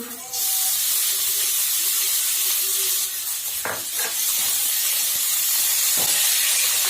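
Peas and boiled potato pieces frying in a hot pan, a loud steady sizzling hiss that starts abruptly and holds for several seconds, with a few brief clatters of stirring.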